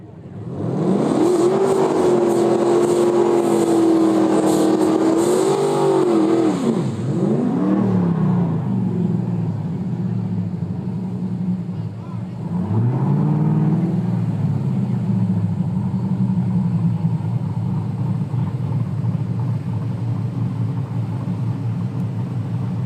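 Two Chevrolet Camaros launch and roar down a no-prep dragstrip at Cordova Dragway, a loud sustained engine howl with rising revs and gear changes, then fading rumble as they pass into the distance.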